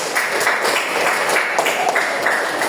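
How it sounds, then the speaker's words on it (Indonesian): Pupils clap together in a classroom, a loud, close patter of many hands with rhythmic surges, lasting a few seconds with little else heard. "Tepuk tangan buat Pak Ija."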